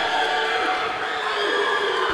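A school quiz competition audience claps and cheers, producing a dense, continuous wash of applause with crowd noise that stays loud and steady throughout.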